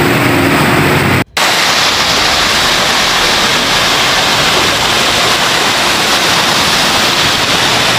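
Typhoon Odette floodwater surges across a highway in Leyte, a loud, unbroken roar of rushing water like a waterfall that continues steadily after a brief cut near the start, with no voices.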